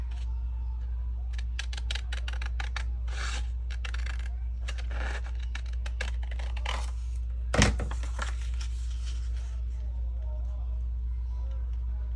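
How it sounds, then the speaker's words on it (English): Scissors snipping a small bit off a paper craft piece, a run of short crisp cuts close by over steady low room hum, with rustling paper and a sharp louder snap near the end. "I'm going to cut just a smidge off of here."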